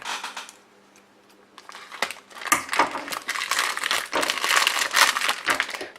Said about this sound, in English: I guess I'll have to use the scissors.